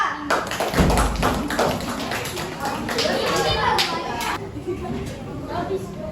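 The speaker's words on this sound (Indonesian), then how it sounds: "Kasih tepuk tangan untuk kelompok 2." Schoolchildren in a primary school classroom clap their hands for a group of classmates, a dense patter of taps mixed with chatter and children's voices close by.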